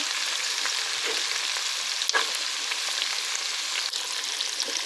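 Steady, close stir-fry sizzle from a pan with garlic and paprika, a broad even hiss broken by a couple of sharp utensil scrapes, no voice over it.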